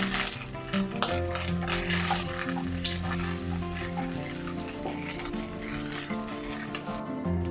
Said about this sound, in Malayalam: ഓയിൽ ചൂടായി നമുക്ക് ജീരകം ഇട്ട് കൊടുക്കാം.